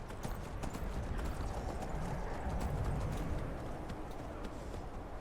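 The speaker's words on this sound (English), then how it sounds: "Horse is really struggling to just keep up a gallop." A horse gallops steadily in Skyrim, its rapid hoofbeats thudding in a continuous rhythm over a rough, noisy background throughout.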